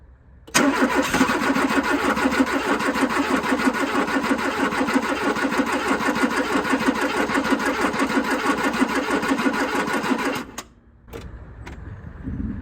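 A Volvo 345 Variomatic garage-find engine cranks steadily and loudly on a freshly connected battery for about ten seconds, with a brief cough near the end before it cuts out, followed by quieter rustling.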